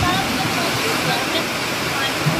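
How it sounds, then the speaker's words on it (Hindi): Dense, steady rushing of heavy rain pouring down at a railway platform, a broad continuous hiss with low splashing underneath, close and loud throughout. "यहाँ इतनी ज़ोरों से बारिश होने लगी"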